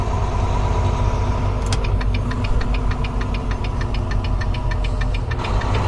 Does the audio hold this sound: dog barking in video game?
no